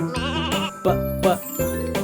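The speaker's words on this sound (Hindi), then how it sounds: "बकरी।" A goat bleats several times in a row, quavering nasal cries with short gaps between them, loud and close, accompanied by a light jingling tone.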